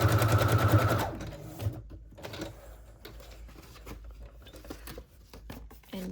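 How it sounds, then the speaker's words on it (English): A sewing machine stitches a label onto a pocket, first in a loud steady run, then in slower, broken bursts of needle chatter and handling noise, with no talking. "I'm also at the same time going to sew on the label."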